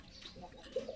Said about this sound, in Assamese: এয়া চাওক এই পাৰ চৰাই পোৱালিটো